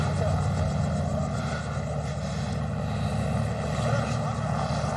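A flying helicopter's steady, loud rotor and engine drone hums continuously, with a dense mechanical whine and no breaks.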